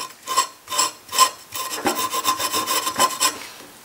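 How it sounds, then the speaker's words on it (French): Emery cloth rasps back and forth over the gasket face of a Puch moped engine, clearing old jointing compound; steady close scrubbing strokes, several distinct rubs at first, then quicker continuous rubbing, with no talk. "je vais déjà commencer un petit coup avec la toile d'émery"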